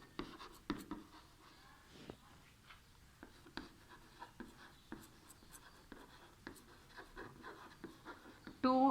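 A pen or marker writes numbers on a board or paper in a quiet room, making soft, irregular scratches and taps in short bursts, with a few faint breaths between strokes.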